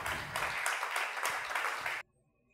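A crowd applauds for about two seconds, a dense, steady patter of clapping that stops abruptly, leaving near silence.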